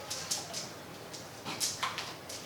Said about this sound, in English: Here, Peach, since you're being such a good dog.